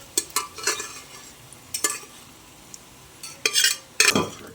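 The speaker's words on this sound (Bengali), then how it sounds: "এবার আমি যে লাউটা সেদ্ধ করে নিয়েছিলাম প্রেসার কুকারে সেইটা জল সমেত এর মধ্যে দিয়ে দিচ্ছি।" Boiled bottle gourd with its cooking water goes into a pan of softened potatoes and is stirred, a few sharp spoon clinks and scrapes against metal spaced irregularly over a quiet low sizzle.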